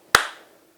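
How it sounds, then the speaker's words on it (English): One crisp hand clap, close and distinct, with a short room echo fading out behind it in an otherwise quiet space. "Yeah, you gotta clap."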